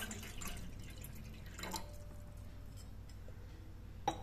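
Water, about one and a half glasses, poured into a cooking pot for ragi mudde (finger millet dough). Low, steady trickling and dripping with a short splashy surge partway through and a sharp click near the end, with no talking.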